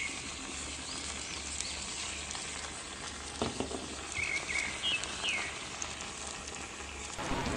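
Spiced potato French fries frying in hot oil, a steady close sizzle with soft crackles running throughout, plus a few brief clinks from stirring near the end.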